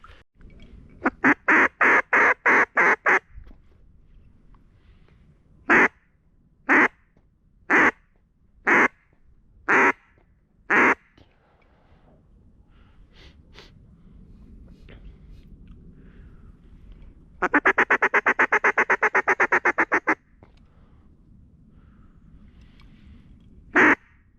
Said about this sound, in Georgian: ეს იხვია არ გაიგეთ